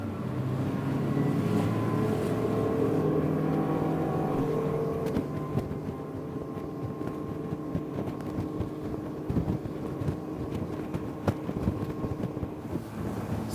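A 2023 Bennington 25Q Fastback pontoon boat's outboard motor runs steadily on Lake of the Ozarks, a continuous engine drone mixed with wind buffeting and water rush, with no talking.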